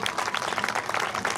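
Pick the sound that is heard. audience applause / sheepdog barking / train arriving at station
audience applause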